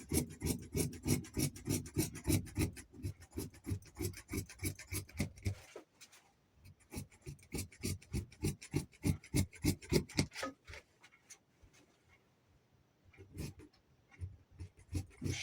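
Scissors snip through shirt fabric while a button shirt pattern is cut out, in a rapid, rhythmic run of close crunching cuts. After a short gap the cutting resumes more softly and irregularly.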